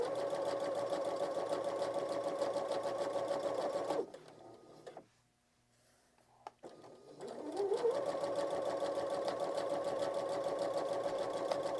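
A sewing machine stitches a composition notebook cover, running steadily for about four seconds, pausing briefly while the needle is lowered for a turn, then speeding back up into continuous close stitching.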